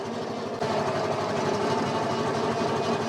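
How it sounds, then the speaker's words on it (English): A HISUN Axis Sector 750 UTV engine runs steadily and loud at close range as its winch pulls, a continuous rough mechanical drone with a faint rhythmic pulsing throughout. "I'm just holding in the winch in button on the machine."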